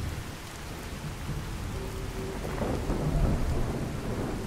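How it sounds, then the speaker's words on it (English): A thunderstorm in the video game Fallout 4 brings steady heavy rain with a deep rumble of thunder building toward the end, loud and continuous without any talking. "I have to wonder whether this thunderstorm we've got here is going to help me with my stealth."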